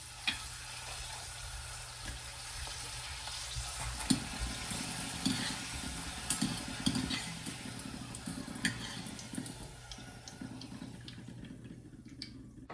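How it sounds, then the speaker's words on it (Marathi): Papad frying in hot oil left over from frying pakodas, a continuous bubbling sizzle with scattered crackles and the scrape of a utensil stirring, close and fairly loud with no talking. "पकोडे तळले त्या तेलामध्येच मी आता पापड पण तळून घेणार आहे."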